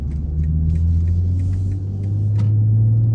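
A 2023 BMW M440i accelerates hard under throttle in first gear, a deep, steady engine drone heard from inside the car that builds slightly louder toward the end.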